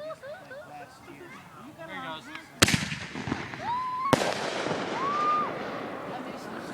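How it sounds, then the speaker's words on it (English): Fireworks going off at a family picnic in Michigan: two sharp, loud bangs a second and a half apart, each followed by crackling and a rising whistle, with people chatting and reacting throughout. "Michigan fireworks, everybody."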